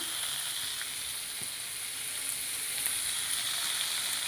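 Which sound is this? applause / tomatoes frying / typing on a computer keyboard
tomatoes frying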